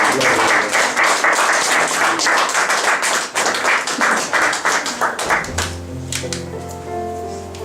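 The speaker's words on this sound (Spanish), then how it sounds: "Den un aplauso al Señor." A church congregation in Lima, Peru applauds, with dense, loud, sustained clapping from many people. It tails off after about five seconds as a low organ or keyboard chord rises beneath it.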